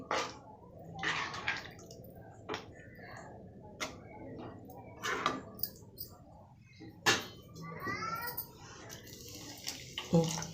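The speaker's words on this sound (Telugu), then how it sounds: "తగినంత వాటర్ వేసుకొని బాగా గుజ్జుగా ఉడికించుకుందాము" Water is poured into a simmering tomato and bajji chili curry, giving splashy, uneven pours against steady kitchen background noise, with some faint voice in the room.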